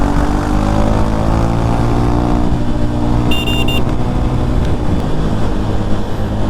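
A vehicle roars past on a highway between Nellore and Ongole during a motorcycle ride, its steady loud engine and road noise heavy under constant wind rush, with a brief high whine midway.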